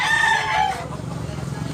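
A rooster in Cebu crows once near the start, a loud harsh call that breaks off after under a second, followed by a low background murmur.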